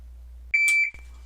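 A single sharp electronic shot timer beep, loud and steady for under half a second, breaking an otherwise quiet low hum during dry-fire practice.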